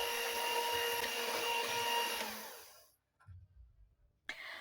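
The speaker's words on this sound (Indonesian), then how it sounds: "Kemudian mixer sebentar lagi sampai tercampur rata." An electric mixer whirs steadily with a high hum as it beats rice flour batter for carabikang, runs for about three seconds, then stops, leaving faint handling noises.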